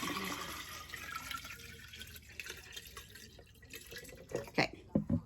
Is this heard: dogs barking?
no